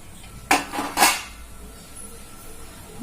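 The lid of a steamer pot holding red rice puttu is lifted, giving two quick metallic clanks close by. A soft, quiet hiss follows.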